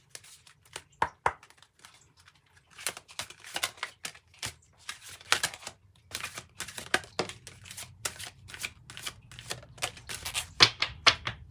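Kryon oracle cards being shuffled, with quiet irregular taps and snappy riffling bursts that thicken into a busy, close-up clatter, no voices over them.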